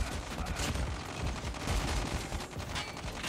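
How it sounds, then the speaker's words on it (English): Gunfire in the Call of Duty Mobile video game, a rapid dense crackle of shots running continuously throughout, fairly faint and distant-sounding. "Getting shot from the side."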